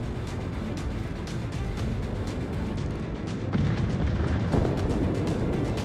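Naval gunfire from a Pan-Asian Tier I cruiser, the Chengan, in World of Warships: a dense, continuous rumble of cannon booms and blasts, loud and steady throughout with slightly heavier volleys toward the end, no talking.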